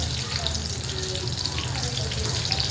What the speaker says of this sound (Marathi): जेवढे बारीक गॅसवर तळून घेईल ना तेवढे खमंग लागतात भजी